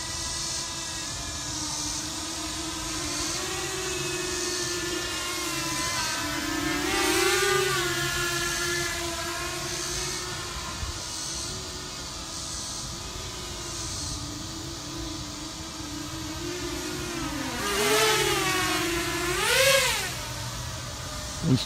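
Walkera F210 quadcopter motors whirring steadily outdoors among trees, with brief throttle pumps rising in pitch around the middle and near the end, moderately loud and close.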